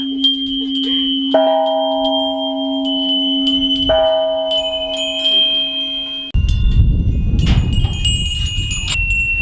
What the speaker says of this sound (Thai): เราตีระฆังที่ สูงที่สุด ในประวัติศาสตร์เลยครับ